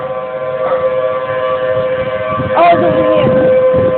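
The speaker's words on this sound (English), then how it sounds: "I found the siren! They're going off! Look, sirens are going off." Civil defense sirens wail outdoors, a steady loud tone holding throughout over wind and background rumble, with a brief excited voice partway through.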